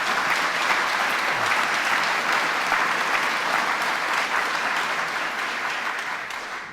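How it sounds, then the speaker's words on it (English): A rally crowd at an event defending the ABC applauds a film by Tosca, giving a dense, sustained round of clapping that fills the room evenly, moderately loud throughout and easing slightly at the end. "Could we have another round of applause for Tosca?"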